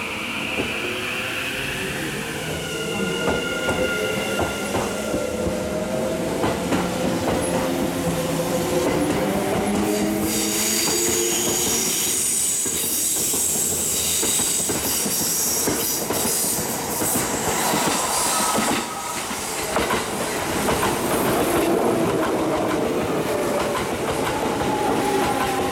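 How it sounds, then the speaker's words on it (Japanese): Kintetsu Urban Liner limited express arriving at a station, loud steady wheel clatter and rumble with rhythmic clickety-clack and faint squeal as the cars roll past close by. "古屋行き特急アーバンライナーが参ります。"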